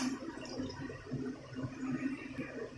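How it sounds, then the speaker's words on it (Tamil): Water pours steadily into a pot of fried cowpeas, a continuous gurgling splash at moderate volume with no talking. "பயிர் வேகிறதுக்கு தண்ணி சேர்த்துக்கிறணும்"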